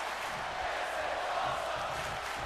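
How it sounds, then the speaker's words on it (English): Arena crowd in a WWE 2K wrestling game main event set in Denver, a dense, steady roar of cheering that stays at one level, heard from a distance. "The crowd in Denver is loving this main event"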